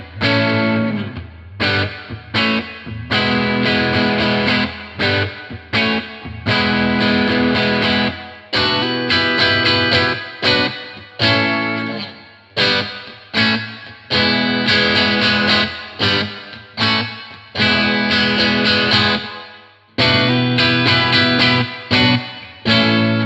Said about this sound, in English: adjusting the amplifier controls for a moderate overdrive tone with reverb, I'll demonstrate a few tones and general riffs